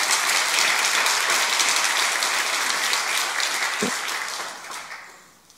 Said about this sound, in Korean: 다시 한번 박수 한번.